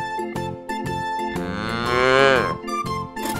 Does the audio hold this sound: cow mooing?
yes